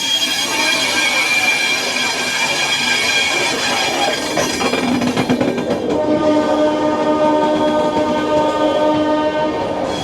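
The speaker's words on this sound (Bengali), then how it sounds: "আমাদের ট্রেন ধীরে ধীরে বেরোচ্ছে" The Sealdah Rajdhani Express pulls slowly out of New Delhi station with loud rumbling carriages, squealing wheels and a sustained horn-like tone, the rail noise close and continuous throughout.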